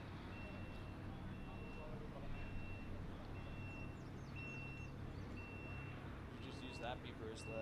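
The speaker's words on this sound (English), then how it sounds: "We got an outside field beep we're trying to take care of real quick." An electronic beeper sounding outside a sports field at a summer event repeats short evenly spaced tones at a distance, over a steady low rumble of outdoor background noise.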